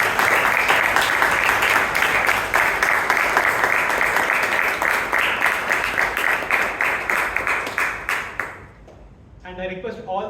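Sustained applause fills a Toastmasters club meeting in Bangalore, dense and steady clapping from a room of members for several seconds before it tapers off, followed by a brief voice.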